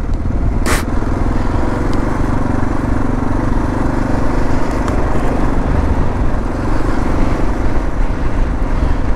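A 2022 Kawasaki KLR650 motorcycle engine drones loudly and steadily while the bike ploughs through a soft sand rut in the Utah desert, with wind buffeting and a brief sharp knock early on.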